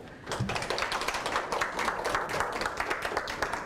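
Audience applause following a lecture on Korean startups expanding overseas at a startup forum, a dense, steady patter of many hands clapping throughout, fairly close and even in loudness.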